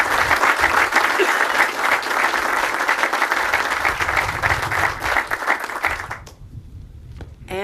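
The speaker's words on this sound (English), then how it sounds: "Let's give that a round of applause, because that is the headline." Loud, dense audience applause at a governor's announcement for the start of construction on a large green hydrogen plant in Genesee County, steady for about six seconds before cutting off abruptly, with a brief spoken word at the end.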